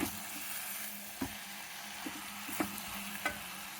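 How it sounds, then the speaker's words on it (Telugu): Bottle gourd pieces fry in a pan, giving a steady broadband sizzle broken by a few sharp clicks as a spoon stirs them, close up and fairly quiet with no voices. "కొద్దిగా వేగింది ఇది."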